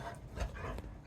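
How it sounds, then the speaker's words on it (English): A pet dog named Copper gives a few short barks and whimpers at home, close by and fairly quiet, with brief sharp bursts separated by gaps. "Stop barking."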